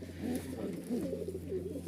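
A high flying Giribaj pigeon coos softly in a short run of low, rolling calls, faint and close against a steady background hum.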